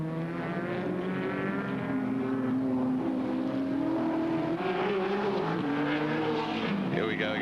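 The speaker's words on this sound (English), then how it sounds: "Onto the Conrod Straight, and watch the Nissan just blast away." A 620-horsepower Nissan race car at the 1990 Bathurst 1000 blasts down the Conrod Straight, its engine roaring loud and steady at high revs the whole time with only slight pitch changes.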